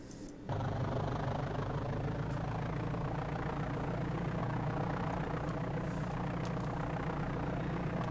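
Simulated light aircraft engine warming up on cold oil at Richard I Bong airport in the DOS game Flight Simulator 5.1, starting after a brief quiet moment and then droning steadily, loud and close, with a low rumbling hum throughout.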